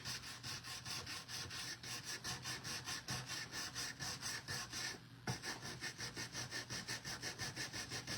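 Low-grit sandpaper scrubbed by hand over a surface in steady, fast back-and-forth strokes, a continuous close rasping rhythm that breaks off briefly near the end and resumes, with no voices.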